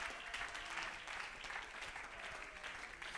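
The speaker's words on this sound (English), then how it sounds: "Clap your hands and give God praise." A church congregation claps hands in praise, a steady dense wash of applause at moderate distance that carries evenly throughout with no break.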